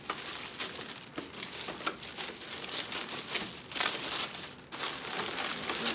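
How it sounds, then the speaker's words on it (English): A plastic wrapper is pulled off a boxed CEN F450 Dually Super Duty toy truck, giving close, crisp crinkling and tearing in irregular bursts with short pauses, and no talking. "So we pull the wrapper off"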